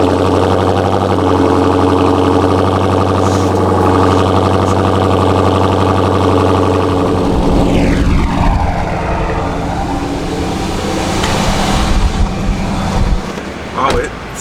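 A Dodge Scat Pack car engine idles steadily and loudly up close, its tone shifting and roughening partway through before settling again.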